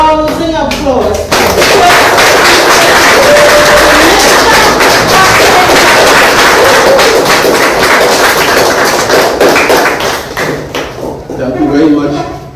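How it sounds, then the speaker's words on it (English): An audience at an evening political think tank meeting gives loud, sustained applause that fills the room for about ten seconds before fading as a speaker begins. "Help me give a rousing applause."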